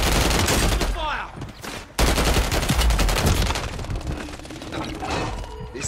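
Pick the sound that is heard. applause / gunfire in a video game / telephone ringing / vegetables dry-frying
gunfire in a video game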